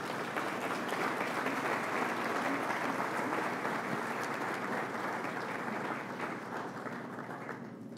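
Sustained applause from an audience at the opening session of a national legal congress, a dense steady clapping that holds strongly for several seconds and then tapers slightly toward the end.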